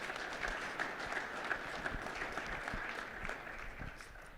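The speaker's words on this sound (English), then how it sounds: "I'd ask each of you if we could just give them a round of applause for their work through all of this" Broad audience applause at a legislative leadership panel, a continuous crowd of clapping hands held at an even, somewhat distant level for several seconds, with a few louder individual claps standing out.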